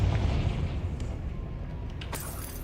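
Confringo fire spell exploding in Hogwarts Legacy, a deep rumbling boom that fades out under softer magical crackles and a brief bright burst near the end.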